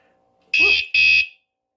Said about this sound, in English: You're supposed to hit it, and there's going to be another beep. Let you know it's armed.